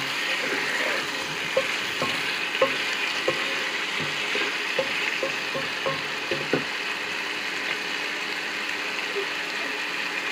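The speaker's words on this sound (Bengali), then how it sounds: "আবারও অল্প নেড়ে নেব।" Achari chicken sizzles and fries in a pan while being stirred, giving a constant crackling hiss broken by a series of light spoon-scraping clicks and knocks against the pan.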